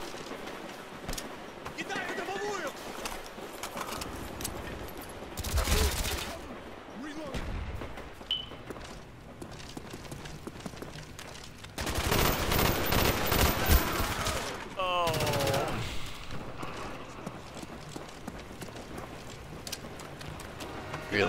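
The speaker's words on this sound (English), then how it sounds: "Ah, I've been shot at." Gunfire rattles through a Call of Duty: Black Ops match in bursts of rapid automatic fire and louder heavy volleys, with a voice talking over the game audio at times.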